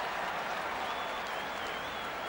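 A crowd applauds a scored point at a 1986 Kerry versus Tyrone Gaelic football match, with dense, sustained clapping and cheering from a large stadium audience, loud and continuous throughout.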